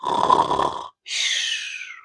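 A voice imitates a cartoon pig snoring, two drawn-out snores: a low, rumbling inhale followed by a short pause and a higher, whistling exhale, close and loud.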